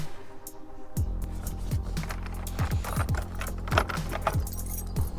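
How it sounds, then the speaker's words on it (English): Police car keys and handcuff keys clink and jangle up close in a searched old police K9 unit car, with a rapid series of bright metallic rattles after a quiet start. "cop keys do not duplicate. And there's handcuff keys right here."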